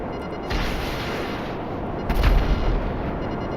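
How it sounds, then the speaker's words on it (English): A missile fired at the altruist camp near Paleto Bay in GTA 5 Online gives a loud whooshing launch, then a heavy booming blast about halfway through, over a constant rumbling game background. "Always got to shoot a missile at the altruist camp."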